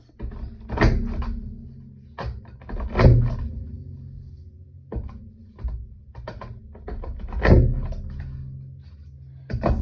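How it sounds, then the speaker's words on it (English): Paper being punched with a border maker punch, several distinct clunking presses of the mechanism close by with pauses between them and no talk. "And now I'm punching the even numbers, 2, 4, and 6."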